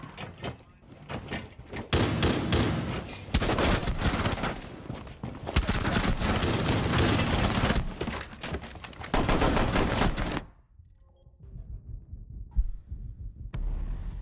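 Rapid bursts of gunfire in Rainbow Six Siege, including P90 hipfire, come loud and dense for about ten seconds, with close, sharp volleys, then drop to quieter game sounds with a few scattered shots.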